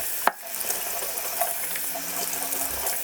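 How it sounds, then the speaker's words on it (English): Vegetables rinsed under a running kitchen tap, a steady soft hiss of flowing water after one sharp clack at the start, with faint splashing and light handling throughout. "Make sure you give your vegetables a good rinse"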